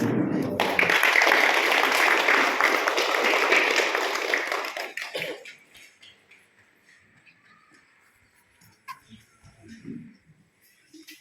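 Audience applause at a high school ceremony where certificates are handed to students, a dense burst of clapping for about five seconds that fades out, followed by quiet room noise and a few faint voices.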